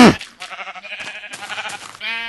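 A sheep in the Minecraft video game bleats in short, loud, wavering calls that repeat several times across about two seconds. The calls are up close and heard alone.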